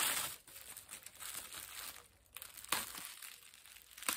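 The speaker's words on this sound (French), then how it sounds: "on s'arme d'un cutter pour enlever en douceur" Close crinkling and scraping as a box cutter slices through packing tape on a parcel of manga, with a few sharper tearing bursts.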